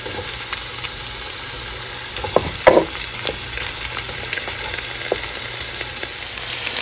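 Yellow onion, ginger and little green peppers frying in a pan with thyme, a steady soft sizzle with brief stirring scrapes and clinks near the middle.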